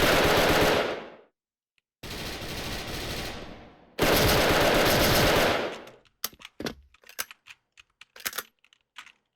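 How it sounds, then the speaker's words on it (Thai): Three long bursts of automatic FAMAS rifle fire from a video game, separated by brief pauses, followed by scattered sharp clicks and taps. "ได้ยินเสียงฟาร์มาร์อยู่นะครับ"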